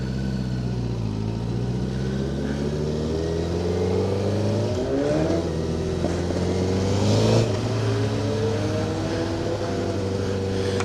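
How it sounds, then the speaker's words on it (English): A 2009 Honda CBR1000RR Repsol sport motorcycle accelerating on the road, its engine loud and close, the pitch climbing steadily through the gears with brief dips at each shift. "This is the most powerful bike I've been on."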